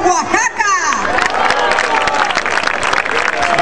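Applause for a municipal official at a fair coronation in Loma Bonita, Oaxaca: a crowd clapping steadily and loudly, with babble and an amplified voice talking over it.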